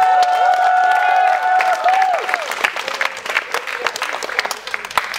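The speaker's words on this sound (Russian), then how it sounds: "еще аплодисментов для первого финала" A crowd at a dance battle final applauds and cheers, with whoops and whistles over dense clapping at first that thins into scattered claps and chatter.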